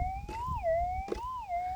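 A metal detector's warbling target tone, a Minelab GPX 6000, rises and falls steadily, with two brief scratchy scuffs over faint background rumble.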